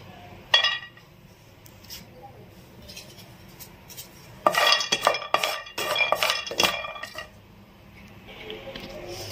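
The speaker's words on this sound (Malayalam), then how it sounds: "ആദ്യം ബദം ഇട്ട് കൊടുക്കാം, എന്നിട്ട് ബദം മാത്രമായിട്ട് റോസ്റ്റ് ചെയ്തെടുക്കാം കേട്ടോ" Almonds tipped into a pan to dry-roast for a homemade protein powder, giving a cluster of close, bright clattering and clinking in the middle, with quieter scraping before and after.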